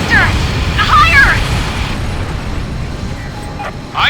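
An ICBM explodes in the Ace Combat Infinity video game, a loud, sustained rumbling blast with layered crackles and bursts near the start, fading into a broad roaring wash.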